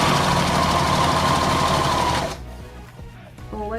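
A sewing machine stitches in a fast, steady mechanical run that stops abruptly partway through, followed by quieter handling clicks and a brief restart of the motor at the end.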